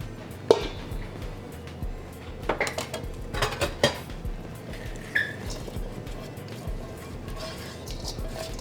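Sautéed vegetables are spooned from a dish into a pan for a homemade chicken pot pie, with scattered close clinks and scrapes of a metal utensil against cookware and soft plops, all under a steady kitchen background.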